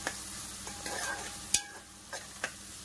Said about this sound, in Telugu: ఇదిగోండి, ఇంకొద్దిగా ఉల్లిపాయ మగ్గాలండి మనకి